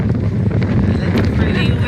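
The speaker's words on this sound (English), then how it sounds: "It's pretty windy." Strong desert wind buffets the microphone in a constant, loud roar with gusty rumble, steady throughout and with no voice over it.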